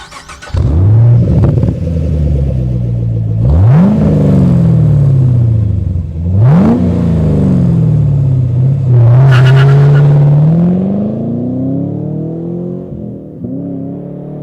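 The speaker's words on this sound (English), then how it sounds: "Now let's hear Borla's S-Type exhaust." Close and loud, a 2010 Chevrolet Camaro with a Borla S-Type exhaust barks to life with a deep rumble, then launches through three sharp upshifts, each pull climbing in pitch before settling back toward a quieter idle.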